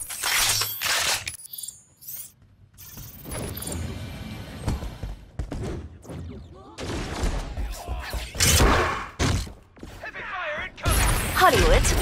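Heavy gunfire and explosions in the video game Agents of Mayhem, loud dense bursts of shots, crashes and impacts filling the scene with brief gaps between volleys.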